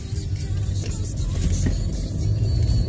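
A car driving along steadily, its engine and road noise forming a continuous low rumble throughout, close and fairly loud, with no talk over it.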